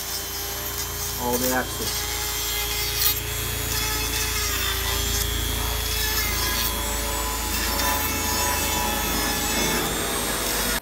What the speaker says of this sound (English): I'm gonna go back to the help of my good friend Dremel and file this off.